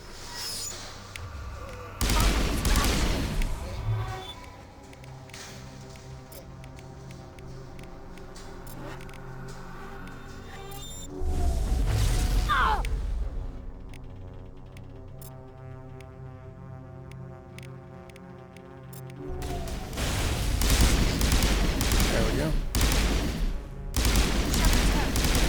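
Gunfire and heavy booming blasts in the video game Mass Effect Legendary Edition, loud clustered volleys in three waves separated by quieter stretches of droning game ambience.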